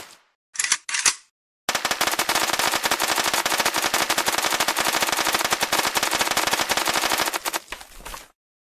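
Rapid, loud automatic gunfire from a weapon in the cartoon game Kick The Buddy rattles on for about six seconds without a break, after a couple of short bursts at the start and trailing off into a low rumble.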